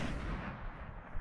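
A sniper shot in the video game Destiny comes as one loud, dense gun blast with a brief rumbling decay.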